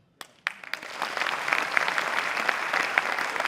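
An audience bursts into applause after a couple of isolated claps, building quickly into steady, sustained clapping from a crowd in a hall.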